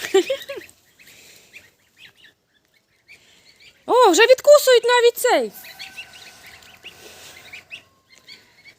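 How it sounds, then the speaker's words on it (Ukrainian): Geese in a farmyard honk in a loud, repeated burst of cries midway, set among quieter stretches where people speak nearby. "Це ж тобі гуси, а не качки."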